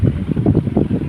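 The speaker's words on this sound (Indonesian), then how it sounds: "Anginnya banter banget anginnya." Strong wind buffets the microphone outdoors by a river during rough weather after rain, a steady low roaring rumble with gusting pulses throughout, loud and close, with no talking.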